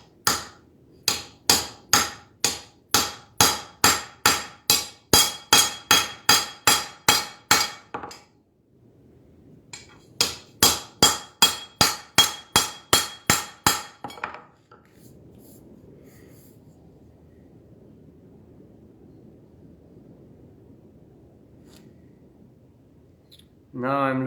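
A hammer strikes a kitchen knife blade laid on wood in quick, regular metallic taps, two bursts of close blows separated by a short pause, followed by a stretch of faint rustling.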